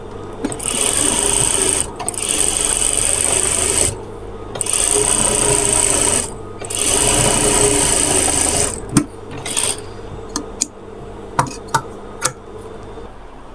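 Sewing machine stitching the side slit of a kameez, three long loud runs of rapid whirring stitches separated by short stops, then a few brief clicks and taps of fabric handling, close up with no talk.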